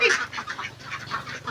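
Ducks at a duck farm quack in a rapid, overlapping chorus of loud nasal calls, close by and continuous.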